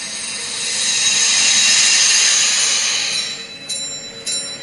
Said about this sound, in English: now I think you can hear the bell quite clearly